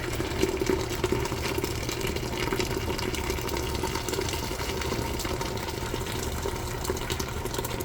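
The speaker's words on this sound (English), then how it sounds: "I'm gonna pour" Hot water is poured into a seafood boil pot, a steady rushing, continuous close hiss with a low rumble beneath, unbroken for several seconds with no talking.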